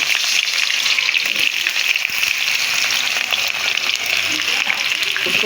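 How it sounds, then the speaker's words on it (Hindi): Chopped onions fry in a cup of hot oil for chicken vegetable fried rice, giving a dense, loud, continuous crackling sizzle close by with faint stirring, no talk. "ये झटपट से हमारा प्याज जो है ना ये फ्राई हो जाएगा"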